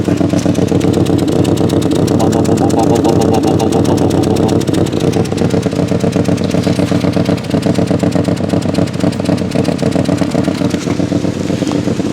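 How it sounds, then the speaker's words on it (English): A Civic EF9 with a 1.4 twin-carb engine idling with a leaking exhaust, a close, loud, steady rapid puttering and chuffing with a rough, uneven pulse throughout. "And I'll show you where the exhaust is leaking."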